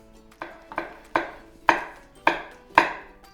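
A knife chops chili pepper on a wooden board for a pumpkin salad, six sharp, close strikes at uneven intervals, each with a short ring.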